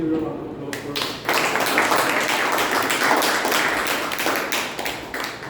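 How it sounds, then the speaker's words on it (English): Audience applause at a Toastmasters club meeting, steady clapping from a roomful of people building quickly after a brief quiet start and holding loud for several seconds. "So please give her a round of applause for her."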